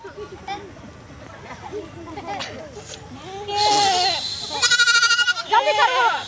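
A goat being treated bleats in loud, wavering cries that grow stronger toward the end, mixed with excited talking from people nearby.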